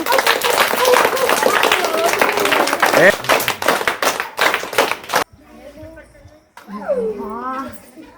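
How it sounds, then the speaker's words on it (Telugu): Schoolchildren at a Children's Day celebration clap loudly and rapidly for a ring-toss winner, a dense burst that breaks off, followed by children's voices talking. "ఫస్ట్ క్లాప్స్ గట్టి అందరూ"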